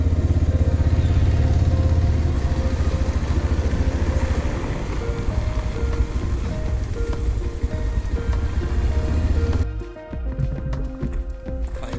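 A motorbike rides along a forest route near Barnawapara, its engine a close, steady drone with rattling and clattering over the rough track, dropping off sharply toward the end.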